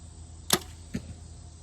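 A compound or hunting bow fires at a deer from a tree stand outdoors: a sharp snap of the release, then a duller thud of the impact about half a second later, both faint against quiet woods.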